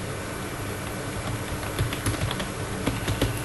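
Someone typing a Google search on a computer keyboard, with a steady patter of light key clicks that picks up into quicker bursts, heard close under quiet room noise and no speech.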